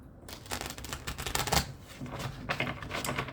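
Tarot cards riffle and flutter in quick rapid bursts, a close, crisp shuffling clatter with a short pause in the middle.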